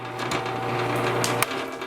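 A power drill bores into wood down to a preset depth of about half an inch, a steady close whirring drone running for nearly two seconds, dropping in pitch near the end.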